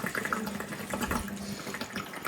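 A motor pumps water out of a dug-up roadside pit around a damaged water pipe, giving a continuous close splashing gush with a low rumble beneath it.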